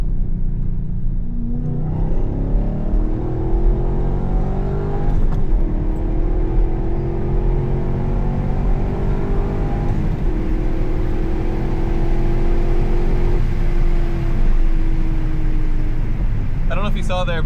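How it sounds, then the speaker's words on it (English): A C5 Corvette accelerating hard through the gears in the rain, its engine note rising in repeated sweeps with clear shift breaks, loud and close from inside the cabin, with a rumbling undertone and road noise. "I want to run through the gears once more before we catch up to traffic"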